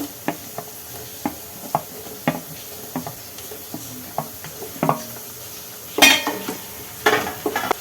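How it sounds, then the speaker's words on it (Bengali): Chopped tomatoes get stirred in a pan over spiced garlic and ginger, a spoon scraping and tapping the metal in short irregular knocks with a faint sizzle underneath and a louder clatter near the end. "এবার আমি দিয়ে দেবো টমেটো কুচিগুলো"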